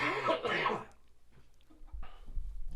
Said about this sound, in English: a lingering cough with this head cold.